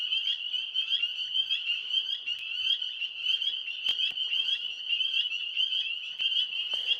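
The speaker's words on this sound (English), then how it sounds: "Man, those tree frogs are loud." Tree frogs croak loudly at night from close overhead, a dense, continuous trilling chorus that pulses rhythmically without pause and with no voices.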